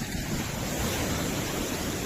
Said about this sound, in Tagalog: Sarap pakinggan yung alon.